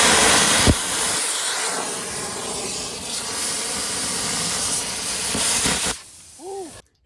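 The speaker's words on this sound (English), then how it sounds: "easy, straight cuts with a contact start plasma cutter" A contact start plasma cutter slices through expanded metal with a steady, loud rushing hiss that runs almost unbroken for about six seconds, ending in a sharp drop to a quiet tail with a brief tonal whine.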